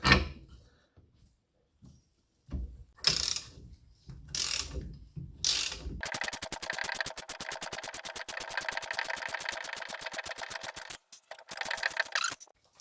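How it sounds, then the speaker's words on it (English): Wrench turning a rusty, seized bolt on a front wheel bearing assembly, heard as a few scraping bursts and then a long, rapid train of close metallic ratchet-like clicks that stops briefly near the end. "I've got this adjustable wrench which holds the head of the bolt, and from here I'm just turning it."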